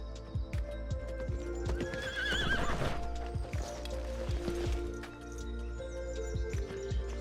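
A horse runs in the video game Petz Horse Club: rapid rhythmic clip-clop hoofbeats mixed with a whinny partway through, all clear and game-synthesized, with no talk.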